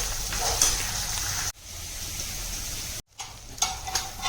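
Tomatoes cooking in a hot pan produce a steady frying sizzle with light crackles, interrupted twice by brief abrupt cuts.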